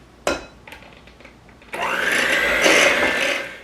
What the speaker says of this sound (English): So let's beat up this Jell-O pudding.